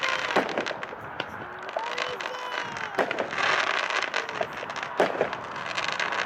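Achilles, a 3-inch 9-shot fireworks cake of the smaller 200-gram kind, fires at a demo show: sharp repeated bursts and crackles at irregular intervals, with whistling rises between shots and some voices in the background.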